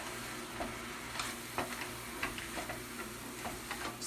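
Mushrooms and flour sizzling in a pan, a steady close frying hiss with occasional soft taps and scrapes of stirring.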